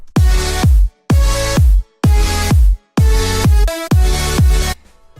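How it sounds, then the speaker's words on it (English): Electronic kick drum in a production, heavy booming hits pulsing in a regular pattern with gated brass-like synth chords swelling between them, loud and upfront. "So let's add in the kick, which is the same as in the build-up."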